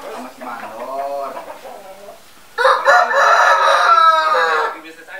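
A fighting cock lets out one loud, long drawn-out crow that follows a quieter stretch of voice-like sound.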